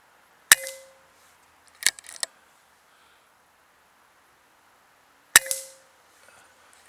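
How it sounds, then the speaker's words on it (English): Airgun pellets strike Reflex Action metal targets to reset them: four sharp metallic clangs, each ringing briefly. Two are isolated and two come close together, with silence between. "the targets can be shot to reset them as well"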